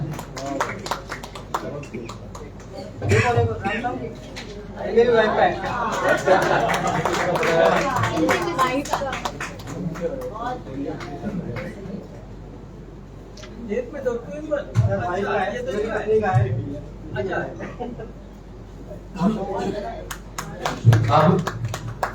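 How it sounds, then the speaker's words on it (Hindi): An audience at a Hindi poetry award ceremony claps in welcome, in scattered bursts that swell and fade, while someone talks over and between them. "ये जोरदार तालियों से स्वागत करें।"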